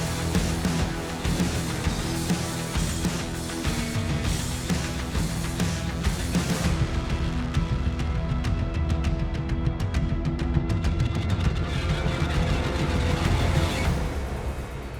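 A loud, dense, gritty epic action film score plays continuously, with driving percussive hits and a harmony that drops a minor third.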